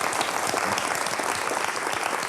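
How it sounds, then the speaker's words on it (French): Warm audience applause after a performer's piece at a French spoken-word show, dense continuous clapping from a hall crowd, fairly close and uninterrupted. "Bravo Ayashi, qu'on peut applaudir encore une fois."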